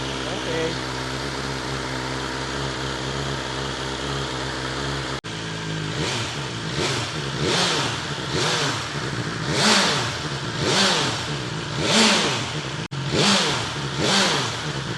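A BMW S1000XR motorcycle fitted with a new aftermarket exhaust idles steadily up close, then is blipped in a series of sharp, rhythmic revs that climb and fall repeatedly, loud and near.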